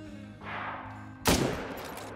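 Hunting rifle shot fired at a deer in theHunter: Call of the Wild, a single sharp, loud crack followed by a rolling echo that fades out over quiet ambient outdoor background.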